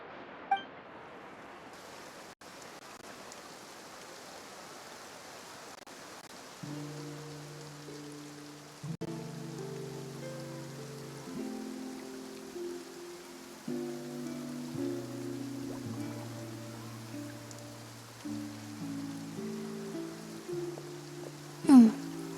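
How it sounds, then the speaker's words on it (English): Rain falling in Fontaine in the video game Genshin Impact, a soft steady patter under gentle background music, with a faint clink at the start and a louder tap near the end. "Looks like rain."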